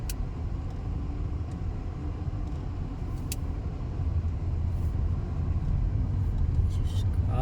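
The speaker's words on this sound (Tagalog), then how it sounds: "Sisimitan tayo ng tricycle." A motor tricycle passing in slow morning traffic, heard as a continuous low engine rumble with brief higher whines, steady and close, with people talking.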